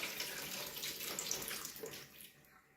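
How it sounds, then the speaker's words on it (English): Water drains from a pot of chopped, washed potatoes into a kitchen sink, a steady close rushing splash that holds even and then tapers off toward the end. "I'll just drain that there."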